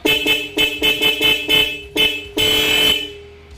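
A loud, harsh horn honks in a series of short bursts, then one longer blast, close by.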